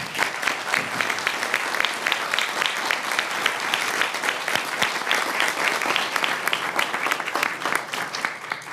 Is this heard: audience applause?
yes